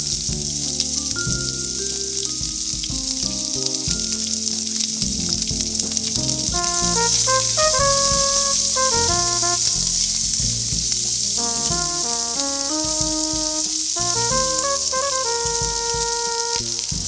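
Sliced onion frying in hot oil with panch phoron, a steady loud sizzle and crackle that continues throughout, with music playing over it.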